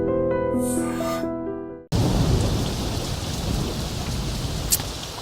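Rain pours down steadily in a film scene set around football practice. A dense, loud wash of rainfall cuts in abruptly after a short burst of music and continues without a break.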